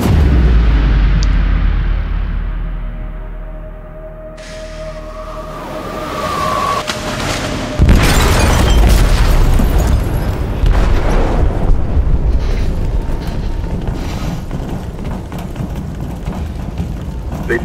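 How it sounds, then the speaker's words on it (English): Explosive detonating in a ship's hold in Detroit: Become Human, a sudden heavy blast near the middle that erupts into a loud, sustained rumbling roar over the game's background ambience. "They detonated an explosive in the hold."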